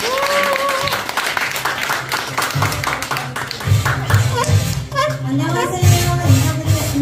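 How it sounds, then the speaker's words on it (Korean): An audience claps for a speaker called up front at a Korean business gathering; mixed clapping runs throughout, with music and a voice sounding over it. "앞으로 나와서 큰 박수로 부탁드리겠습니다"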